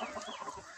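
A Black Copper Marans chicken gives a brief, faint cluck in a poultry enclosure, one short clucking call with no one speaking.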